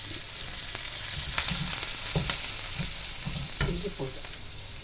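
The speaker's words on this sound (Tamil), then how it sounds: "எண்ணெய் காய வச்சு அதில் சோம்பு போட்டோம்" Fennel seeds, onion and curry leaves crackle in hot oil, a bright continuous sizzle with scattered pops and a few stirring scrapes close by, no talking.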